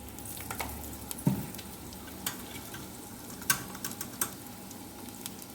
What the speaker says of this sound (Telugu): ఇవి కొంచెం సేపు వేయించుకోవాలి